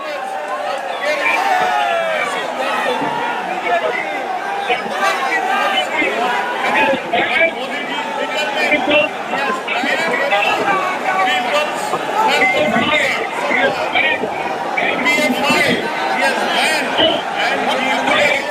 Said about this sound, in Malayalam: വലിയ ആരവത്തോടു കൂടിയാണ് തൃശ്ശൂരുകാർ നരേന്ദ്രമോദിയെ സ്വീകരിക്കുന്നത്